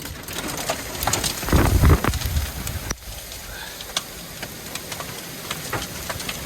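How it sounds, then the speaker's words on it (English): Strong gusting wind and rain from a hail-dropping supercell storm, a loud rushing roar that swells and eases over a few seconds, with scattered outdoor crackles and no voices. "Whoa, big winds."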